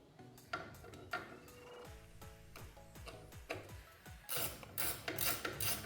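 Ratchet wrench tightening a small bolt on an intake air temperature/MAP sensor of a 2024–2026 Buick Encore GX 1.3L engine, a run of close, quick clicking ticks followed by louder scraping and handling noises, no talking.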